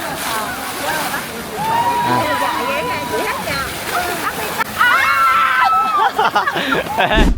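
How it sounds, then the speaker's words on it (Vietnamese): Water jets from a voice-activated fountain surge and splash outdoors at a busy night street in Xi'an, blending with many people shouting and cheering nearby. "hét lên là cái nước nó sẽ cao lên"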